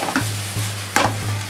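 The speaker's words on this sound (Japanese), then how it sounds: "よく炒めるね、炒めるの心ね。" Japanese-style meat sauce stir-fried in a pan, with a steady low sizzle and a few sharp scraping stirs of the spatula, close and fairly loud with no talking.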